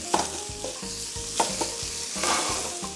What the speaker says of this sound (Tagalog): habang nagigisa kayo, halu-haluin nyo lang or i-toss lang ninyo para naman hindi masunog yung mga ginigisa natin